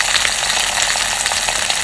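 A fish head fries in hot oil, with leftover water spitting and crackling in a dense, steady sizzle, loud and close, with no talking.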